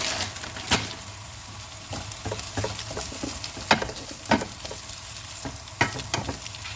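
A tortilla heating in a pan for shawarma makes a soft, steady sizzle broken by scattered sharp ticks and crackles of scraping and stirring, close by, with no talking.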